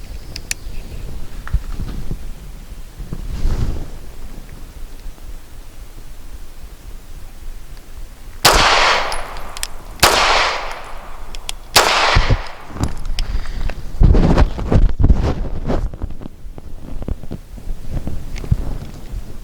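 Grand Power K100D pistol firing Archon 124 grain black nickel-plated rounds at an outdoor range: sharp loud shots spaced irregularly across the stretch, the later ones in quicker succession, with wind rustling on the microphone between them.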